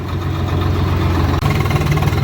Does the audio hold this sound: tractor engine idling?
yes